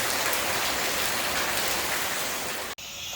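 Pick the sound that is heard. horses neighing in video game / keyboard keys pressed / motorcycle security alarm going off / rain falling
rain falling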